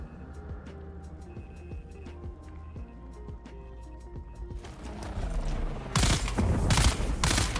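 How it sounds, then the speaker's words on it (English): Rapid turret gunfire in a video game bursts in over the last couple of seconds, loud and dense, following a stretch of game sounds, engine-like hum and scattered clicks. "I can use my turret whenever I need to."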